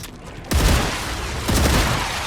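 Two loud, heavy gunshot blasts from StarRupture, about a second apart, each booming sharply and then ringing out, after a quieter start.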